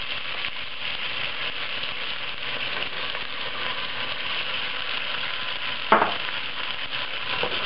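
Pork browning in its own rendered fat with onions added, a dense, loud, continuous sizzle and crackle in a pan for Filipino humba, with one sharp knock near the end and no talking.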